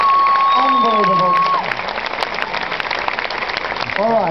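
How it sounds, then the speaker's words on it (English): An audience applauds at a golf event, with dense clapping and crowd noise mixed with voices and a drawn-out tone at the start. "let's have a big round of applause for Philip here for helping us out."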